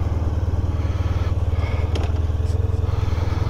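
A motorcycle engine idles steadily nearby, a constant low, throbbing rumble with a little faint clatter and no voices.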